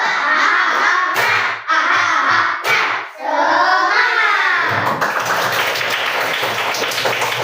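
A classroom of children performs the 'tepuk semangat' spirit clap, a loud patterned run of claps and chanting voices with brief pauses, ending in a burst of cheering.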